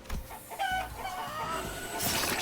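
Chickens cluck steadily in the Limbus Company video game, a busy flock with clucks and squawks under a low hum of game background.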